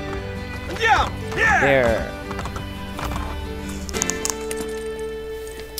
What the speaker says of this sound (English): Bring horse back to the stable.